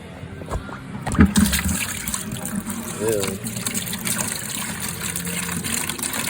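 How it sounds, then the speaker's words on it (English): Dirty floor-scrubbing water being dumped during a store construction cleanup, a steady splashing, gushing pour that runs throughout with a brief louder slosh early on; voices talk over it. "now it's time to dump the dirty water"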